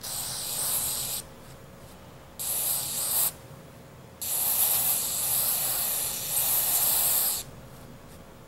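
Cleaner spray is directed onto a high torque motor in short hissing bursts, four separate sprays of about one to three seconds each, close and fairly loud, with quiet pauses between them.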